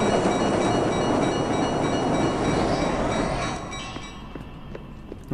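A train rumbles past in the video game Marc Ecko's Getting Up: Contents Under Pressure, a loud, steady roar of rail cars that fades to a quieter rumble after a few seconds.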